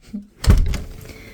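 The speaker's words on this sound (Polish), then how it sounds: "zamykamy drzwi i się chowamy" A door swings shut with a single dull thunk about halfway through, on a very cold winter day, followed by a short fading rattle.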